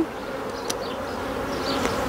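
Honeybees drone steadily at an opened hive frame of young bees, a close, even buzz with a couple of faint higher whines passing by.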